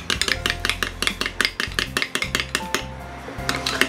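Meatloaf topping ingredients are mixed in a bowl with a utensil, producing quick rhythmic clinks and scrapes against the bowl in a steady fast pattern, close and loud with no talking.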